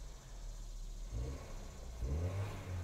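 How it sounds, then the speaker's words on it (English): Engine of a 2018 Chevrolet Equinox with low power and boost trouble, revved up twice in quick succession, each rev rising to a loud, steady drone over a low idle rumble, with no talk. "Let me go ahead and rev this thing up once and take a look at the data."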